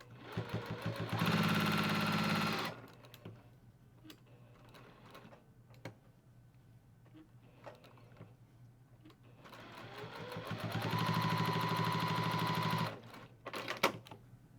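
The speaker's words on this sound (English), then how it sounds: "we're gonna sew on this darker fabric and see what the stitches look like here" A sewing machine stitches cool gray thread on dark fabric in two rapid mechanical bursts, a steady clattering whir of needle strokes separated by quieter handling clicks and fabric shuffling.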